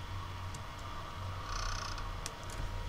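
A cat purrs in the video game The Witch's House, a low continuous rumble with soft periodic pulses, a few faint ticks above it, no voices.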